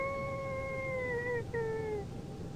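A dog howls in a Dutch radio play, a long, steady, mournful wail with a brief break near the end, heard over low background rumble.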